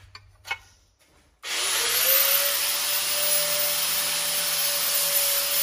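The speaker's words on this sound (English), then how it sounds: "I finished grinding down." Power tool grinding down a part from a John Deere LA165 lawn mower tractor, starting abruptly after a few faint knocks and then running as a continuous loud whine to the end.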